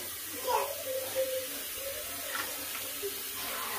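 Water runs steadily from a tap while a baby is bathed in a bath chair, a soft continuous hiss and splash with small bursts.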